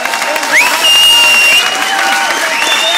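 Applause and cheering from the crowd at an amateur boxing championship in Hamburg, a dense steady wash of clapping that swells briefly, with a whistle and voices mixed in.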